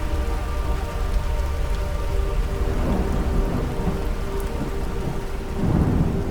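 Rain and thunderstorm effect in a fantasy audio drama: steady rainfall pattering throughout, with low rumbling thunder rolling in the background and swelling again near the end, no voices.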